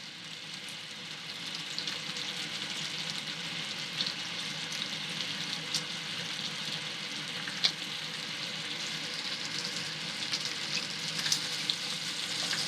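Bacon frying in a pan for breakfast fried rice, a steady close sizzle with soft crackles and occasional sharper pops running continuously at moderate volume.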